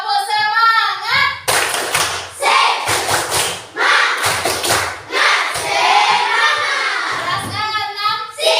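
A Class 6 classroom of children performs the 'tepuk semangat' clapping chant, with rhythmic bursts of group clapping and thumps alternating with chanted children's voices in a loud, near, patterned sequence.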